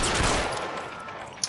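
Gunfire in the L.A. Noire video game, a short loud burst of shots opening the moment and then fading into a dull rumble, with a sharp crack near the end.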